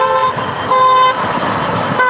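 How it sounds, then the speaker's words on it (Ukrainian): Car horns honk in repeated long blasts at a peaceful street solidarity rally in Mogilev, loud and near, with traffic noise between the tones. "вот машины сигналять"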